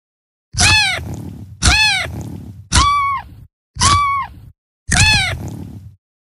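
Cartoon kitten in a children's pet video game meows five times in a steady rhythm, each a loud, close, bright synthesized mew with no talk.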